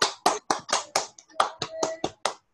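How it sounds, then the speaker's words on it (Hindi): Participants on a Zoom call clapping, about a dozen sharp, close hand claps in an uneven rhythm, with faint tonal hum from the call audio between some claps. "जोरदार तालियों के साथ रमेश भाई का पहले स्वागत करें"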